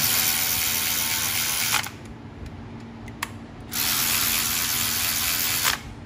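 A ratchet tightens the front wheel bolts on a Harley-Davidson, with two bursts of continuous close, loud clicking separated by a quieter pause holding a couple of single clicks.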